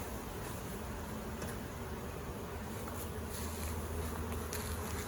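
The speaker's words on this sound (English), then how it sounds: "Now you can really hear them buzzing." Honeybees in an opened hive after smoking hum in a dense, continuous buzz, close and steady with no pauses, swelling slightly louder toward the end.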